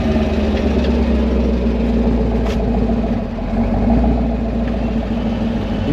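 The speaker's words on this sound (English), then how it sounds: "2024 Hot Wheels Camaro" A 2024 Hot Wheels edition Chevrolet Camaro SS idles steadily close by, a deep, continuous engine rumble with no speech over it.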